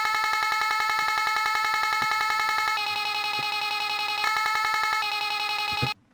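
An unprocessed vocal chop cut from an acapella for a sextrance/hypertrance track repeats in fast, bright rhythmic stabs, loud and steady with a pitch shift partway through, ending abruptly.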